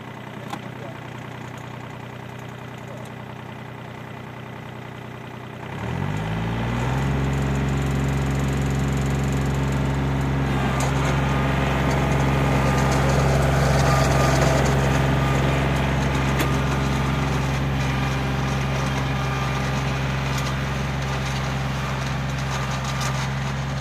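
Tractor engine on a farm during fall plowing: quiet low background, then the engine starts with a rising rumble and settles into a loud, steady idle that continues to the end.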